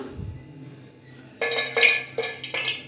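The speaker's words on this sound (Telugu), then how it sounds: "సో ఇదైతే మనకి హీట్ అయిపోయింది సో ఇందులో కొన్ని జీడిపప్పు వేసుకుందాం" Cashews tipped into hot ghee in a metal pan, beginning after a quiet pause as a few sharp clinks and rattles of nuts and utensil against the pan, close and fairly soft.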